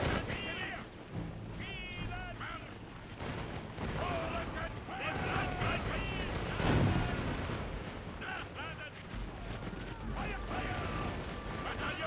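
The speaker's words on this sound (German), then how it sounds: "Jetzt eine Salve aus meiner Seite." Cannon volley firing in the Imperial Glory strategy game, booming artillery blasts and rumbling explosions layered under someone talking over the battle throughout.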